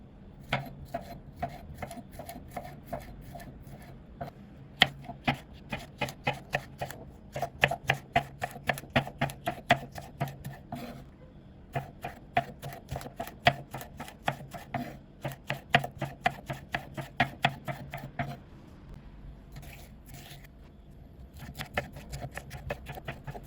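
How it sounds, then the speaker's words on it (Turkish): Rapid knife chopping of vegetables on a cutting board, steady rhythmic clacks in bursts with brief pauses, close and fairly loud. "Taşlığımız ocakta pişerken biz de sebzelerimizi doğrayalım"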